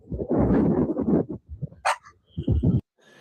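Cane Corso dog barking outdoors in a quick burst of deep, loud barks, followed by a few softer yips and whimpers and then a final short bark.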